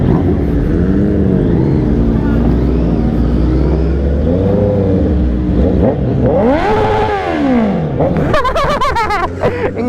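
A Honda CB650R motorcycle engine is revved hard on a group ride, with rising and falling throttle blips that swell to a sharp high-revving burst near the end, loud and close amid other bikes.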